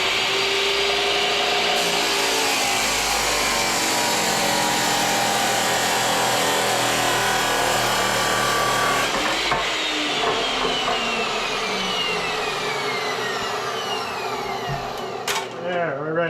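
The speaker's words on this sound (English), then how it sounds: "I'll just mark where I want to cut that rod for the axle, put it over on the saw" A chop saw cuts through a metal axle rod for a little red wagon, giving a loud, continuous abrasive whine that holds steady for most of the stretch before winding down near the end.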